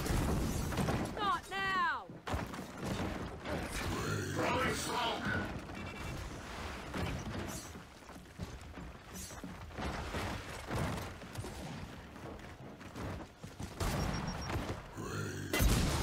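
Grenade blasts and gunfire in the Gears of War 4 video game, a chaotic stretch of bursts and booms under frequent excited talk and cursing from players.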